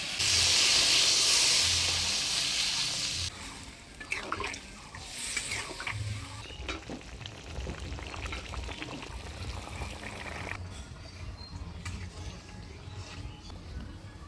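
Water is poured into a pan of spiced potatoes and pointed gourd for a light fish curry, a loud rushing hiss at the start that gives way to softer bubbling and clinks, with no talk.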